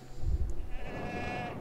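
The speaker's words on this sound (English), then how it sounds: "Where is that goat still down there?" A goat in Lego Worlds gives one short, wavering bleat, clear and up close, with no talking.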